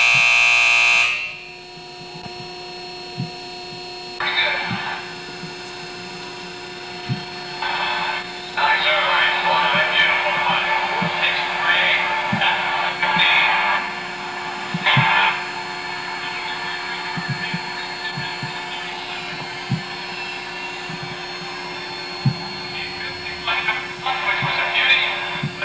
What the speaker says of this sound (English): going through a dry run right now just to function the machine